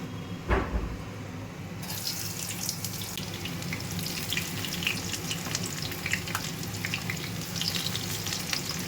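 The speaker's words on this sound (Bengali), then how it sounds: "তো এবার পেঁয়াজটা আমি ভাজবো" Chopped onions hit hot oil with a bay leaf in a pan for chicken kosha, bursting into a loud, steady sizzle after a brief clatter, crackling on without pause and with no talk.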